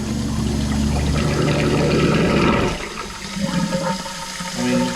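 Water surges loudly down a kitchen sink drain after a clog has been cleared, a strong continuous flushing rush for nearly three seconds that then drops to a softer gurgling trickle and swells briefly again.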